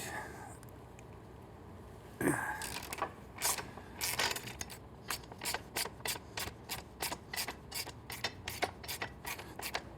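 Motorcycle frame bolt being loosened with an 8mm Allen hex bit on a ratchet while a 14mm nut is held behind, on a Triumph Street Twin during a header install: a sharp clunk, then a run of regular close ratcheting clicks.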